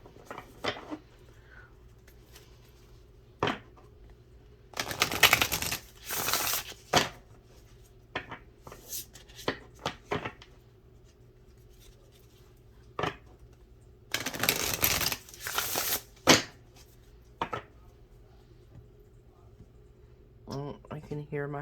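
Oracle cards being shuffled by hand, three separate bursts of dense riffling and flicking at close range, with quiet household room tone and scattered small taps in between.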